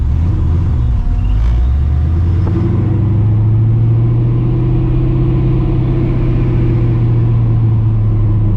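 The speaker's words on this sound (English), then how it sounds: "That fuel pump is crazy loud." Fuel pump of a cammed, supercharged 1999 Ford Mustang GT, a steady hum under the loud, continuous low rumble of the idling V8, heard up close from inside the car with no talking.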